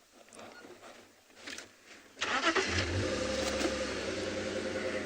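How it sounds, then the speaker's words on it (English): A safari vehicle's engine cranks and starts about two seconds in. It then runs at a steady, loud idle with a low rumble that fills the rest of the clip, after quieter outdoor bush ambience at the start. "subject you to the sound of the vehicle"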